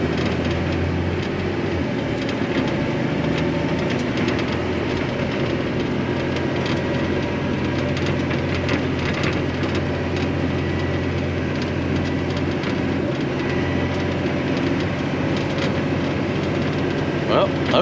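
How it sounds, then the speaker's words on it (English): A big six-wheel-drive dump truck drives along, its engine rumbling steadily with rattling and clanking from the body, loud and continuous, with voices speaking at times over it. "Let's take our big dump truck for a drive here and make sure everything is good to go"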